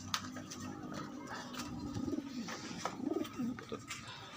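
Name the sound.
pigeon cooing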